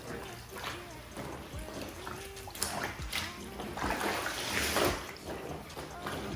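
Hot water runs and splashes into a laundry tub of soaking whites, a soft continuous trickle with occasional sloshes, fairly faint.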